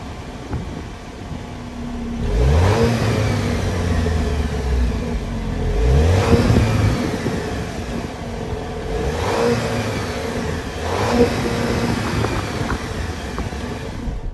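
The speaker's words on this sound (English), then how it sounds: "that was the sound of the 2-liter turbocharged 4-cylinder sold by Jeep for the 2024" A 2024 Jeep Wrangler Sahara's 2-liter turbocharged four-cylinder engine revs up close in three or four rising bursts, settling back to a steady idle between them, with no voices.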